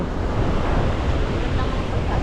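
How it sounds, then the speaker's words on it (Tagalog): Strong wind rushes past outdoors near trees on a walk toward a river, a continuous loud roaring buffet across the microphone with no pauses. "Ilakas ng hangin oh"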